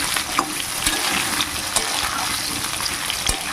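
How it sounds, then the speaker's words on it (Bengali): Potatoes fry in hot oil until turning reddish, a steady close sizzle with a few sharp crackles and stirring clicks throughout, no voices. "খুব সুন্দর করে লাল লাল করে আলুগুলোকে ভাজবো"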